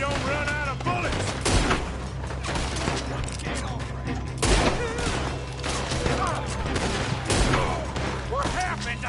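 Rapid bursts of gunfire crack and boom repeatedly in a Red Dead Redemption 2 shootout, loud and dense with sharp peaks amid game music and voices.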